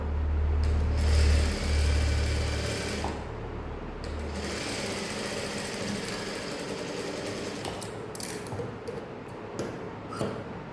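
A sewing machine stitches a saree blouse in a loud, steady mechanical whir with a low hum, easing slightly partway through and ending with a few clicks as the fabric is handled.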